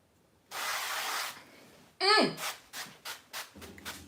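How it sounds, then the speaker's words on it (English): An olive oil spray bottle hisses onto a cake pan in one steady burst of about a second, followed by a squeak and a series of short, rhythmic rubbing or spraying bursts close to the microphone. "I'm going to spray it with a little olive oil because I don't want my cake to stick."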